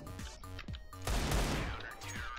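Desert Eagle pistol shots ring out in Counter-Strike: Global Offensive, several sharp cracks amid a dense burst of gunfire around the middle, fairly close and loud.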